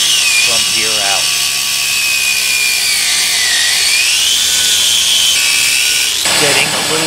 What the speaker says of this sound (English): I went back to the Sawzall, and by pulling the tire apart slightly to back off the resistance, I was able to make great progress in cutting